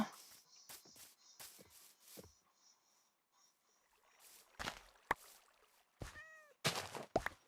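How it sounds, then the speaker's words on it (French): A cat in Minecraft meows in short, bright, repeated calls. Some are clear and close, others softer, with quiet gaps and scattered game sounds between them. "Oh, le petit minou!"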